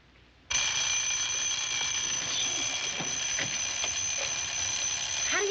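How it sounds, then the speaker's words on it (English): A loud, harsh alarm clock with a Big Ben-like ring bursts on suddenly and keeps clanging continuously in an indoor room. "an alarm that sounds like Big Ben that can't be turned off"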